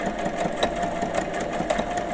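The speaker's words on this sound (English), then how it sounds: "so I'm sewing down that line." Steady mechanical whirring of a sewing machine running continuously, close by, with a faint rhythmic pulse and no talking.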